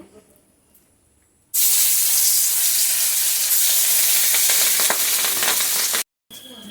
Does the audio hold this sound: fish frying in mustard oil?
yes